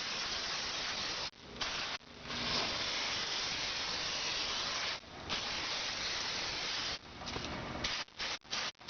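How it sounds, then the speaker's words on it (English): Loud, steady hissing of aerosol brake cleaner sprayed onto the front brakes of a 2003 Hyundai Sonata V6 in long continuous bursts, broken by brief pauses and a few short spurts at the end. "I like to spray it a little bit before I get into it to get some of the dust off."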